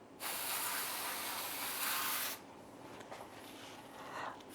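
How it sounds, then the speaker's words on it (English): Two bursts of a spray bottle misting water onto a moss pole hiss close by, a long strong spritz followed by a softer, uneven one. "I really like this sprayer because that is a pretty effective spray and it's getting everywhere"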